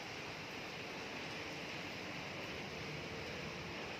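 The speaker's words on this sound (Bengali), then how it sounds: "বৃষ্টি হচ্ছে" Steady rain falling onto a water-soaked balcony, a dense, continuous wash of hiss and patter with no pauses, moderately close and even in level throughout, with no voices.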